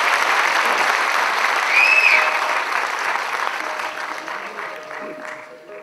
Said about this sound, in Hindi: आप लोग जोरदार तालियों के साथ